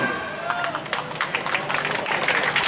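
Crowd applause at an outdoor community stage event in a public park in Genteng, Banyuwangi, welcoming a singer, busy clapping with cheering mixed in, rising over a fading voice.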